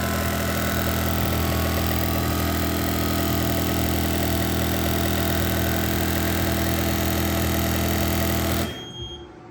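A fuel injector tester runs at 5,000 RPM and 50-50 duty, firing Injector Dynamics ID 2000 injectors. A dense, steady buzzing clatter stays loud and constant before cutting off abruptly near the end.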